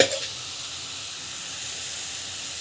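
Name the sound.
sautéing raw banana in a pan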